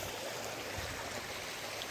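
Steady rushing water of a waterfall in a forest, a continuous broadband roar heard from a distance with no voices over it.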